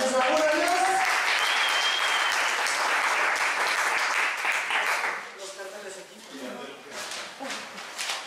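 Applause at a workshop, a loud burst of clapping with voices and cheering mixed in for about five seconds, then thinning to scattered claps under people talking.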